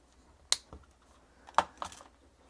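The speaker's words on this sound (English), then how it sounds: "Get the last click out of that zip tie." A zip tie pulled tight on a Lambretta scooter's wiring gives a few sharp, close clicks, spaced apart with near silence between them.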